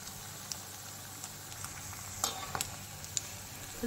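Beetroot chops with a boiled potato and beet filling fry in hot oil over a medium flame, giving a steady close sizzle with scattered sharp crackles and pops.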